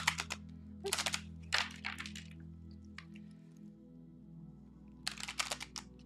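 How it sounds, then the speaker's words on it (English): A deck of cards is shuffled by hand in short, crisp bursts of flicking and riffling, three quick rounds followed by a pause and then one more. The sound is close and quiet against a low background hum. "I'm going to give these a good shuffle for the next."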